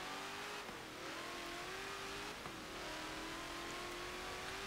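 A 2018 Dodge Demon accelerating in Forza Motorsport 7 on a wet track, a faint steady engine drone rising in pitch through the gears with brief shifts and a light tire noise.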